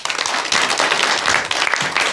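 A television studio audience breaks into steady, close applause, a short burst of dense clapping with no talk over it.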